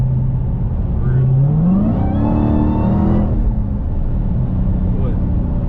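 Dodge Challenger Hellcat engine revving from the driver's seat, a low rumble that swells into a rising roar around two seconds in, then settles back to a steady loud drone under cabin noise.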